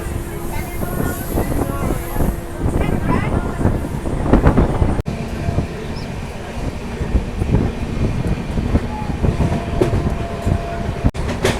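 A Darjeeling Mail passenger train runs along with a steady rumble and rattle of carriages. Wind buffets the microphone throughout, and faint voices sit under the rolling noise.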